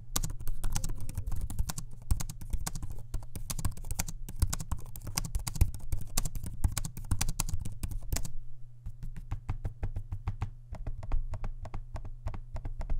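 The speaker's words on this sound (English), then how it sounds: "Here's a quick audio sample of me using both the trackpad and the keyboard" Steady, rapid typing on an HP Omen laptop keyboard up close, with lighter trackpad clicks mixed in; quiet and continuous, with a brief pause partway through.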